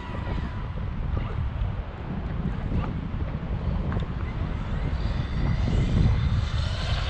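An Arrma Kraton 8S RC car with a 23-tooth pinion at full throttle on a speed run, giving a loud continuous high-pitched whine mixed with rushing wind noise that swells toward the end.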